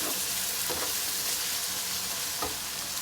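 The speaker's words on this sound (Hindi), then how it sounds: "ज़रा सा चम्मच चलाएँगे इसको, ज़्यादा हम लोगों ने इसको जलाना नहीं है।" Okra (bhindi) fries hard in a pan while a spoon stirs it: a loud, steady, hissing sizzle that fills the whole stretch, broken by a few soft scraping strokes of the spoon.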